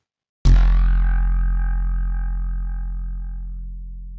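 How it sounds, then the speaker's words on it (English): After brief silence, one sharp electronic zap bursts out and rings on as a long humming tone that slowly fades, like a sci-fi laser blast. "Let's listen to a sound clip. It's a laser firing."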